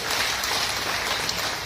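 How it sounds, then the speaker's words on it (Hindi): Audience members at a motivational event clap together, a dense, even patter of many hands sustained throughout the short stretch at moderate loudness. "भाई अपने लिए तालियां तो बजा लीजिएगा"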